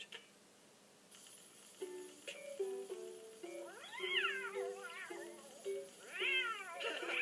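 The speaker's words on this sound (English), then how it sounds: "You just made Pilchard a very happy cat." A cat meows several times in rising and falling calls, some drawn out like a caterwaul, close by over a quiet steady hum with faint clinks.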